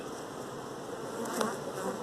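Honeybee workers crowd a brood frame pulled from a hive, producing a dense, continuous close-up buzzing hum that stays steady and fairly soft, with no voices over it.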